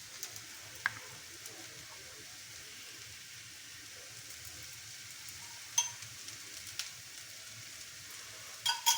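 Paruppu adai fries in a pan with a faint, steady sizzle throughout and a few soft clicks near the end.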